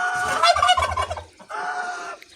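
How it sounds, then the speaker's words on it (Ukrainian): Farmyard turkeys gobbling close by, a loud rattling burst followed by a second shorter gobble after a brief pause, with no talk. "Одна індюшка, індюк"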